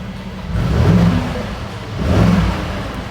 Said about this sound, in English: I would say that the 4-liter V8 doesn't sound as aggressive as the 55 AMG used to